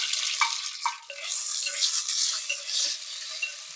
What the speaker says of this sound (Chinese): 先把肉丝炒一下